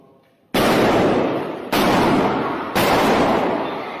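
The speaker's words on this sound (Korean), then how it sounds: "주말 예배 중 울려 퍼진 세 발의 총성." Three loud gunshots ring out in quick succession during a weekend church service at West Freeway Church in northwest Fort Worth, Texas, each sharp blast trailing a long echoing decay, with no talk.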